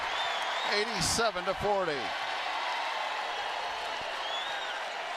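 Crowd cheering and applauding in a college basketball arena, Arizona State versus Iowa State, after a made three-pointer; broad steady roar under a commentator's voice, with brief squeaks and bounces near the start.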